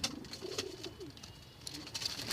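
Domestic pigeons coo close by in low, rolling phrases, several soft calls overlapping against faint background noise.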